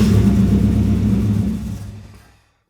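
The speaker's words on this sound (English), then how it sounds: "now we turn the car on and let it die" A Nissan 240SX engine runs with a low rumbling idle and then fades and stalls out as it dies, going quiet near the end.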